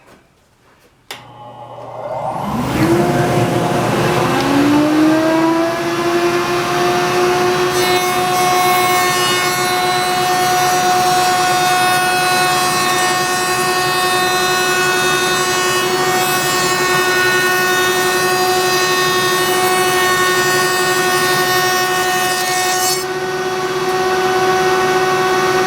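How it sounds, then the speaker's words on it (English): A router spins up on a router table with a sharp whine climbing to a steady high pitch, then holds a loud, constant tonal drone for about twenty seconds while cutting a rabbet in firewood stock, before the load eases near the end. "I'm going to put a rabbet on the interior piece of the wood. And I'm going to do that here at the router table."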